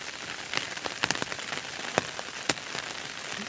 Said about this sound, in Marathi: पाऊस पण येत आहे वरून